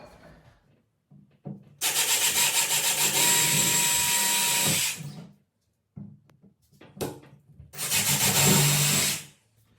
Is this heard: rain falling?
no